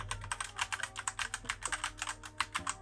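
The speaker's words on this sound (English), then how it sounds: "So let's listen to the red switches." Rapid, steady typing on a Gamemax Strike RGB mechanical keyboard with red switches, close up, with soft clacks in an even rhythm and no voices.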